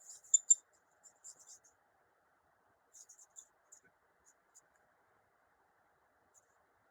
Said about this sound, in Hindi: लिख ही देता हूं